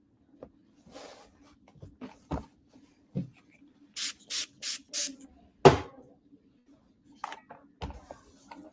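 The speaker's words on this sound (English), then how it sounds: "love those sprays that just help everything just lay nice and flat" Several quick hissing bursts of Best Press starch spray misted onto patchwork fabric, four short pumps in a row followed by one more, with soft handling rustles between them.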